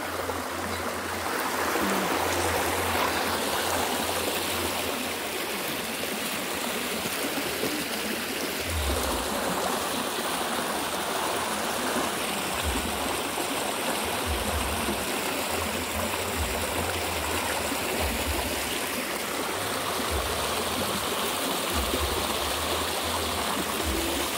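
A stream running high after rain rushes and gurgles steadily and fairly close for the whole stretch, with a few dull low thumps underneath the constant flow.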